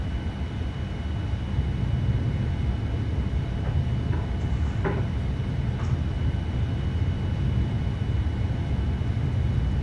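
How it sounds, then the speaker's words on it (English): A Boeing 787-8 jet in the FSX flight simulator rolls down the runway on takeoff, a steady, heavy low engine roar with faint rumbling and a few light clicks, no talk. "And now we are in the high energy portion of the takeoff."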